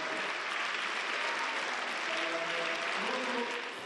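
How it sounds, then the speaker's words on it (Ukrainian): Members of Ukraine's parliament give a standing ovation, a continuous, even roar of many hands clapping, heard somewhat distant and subdued throughout. "аплодують стоячи."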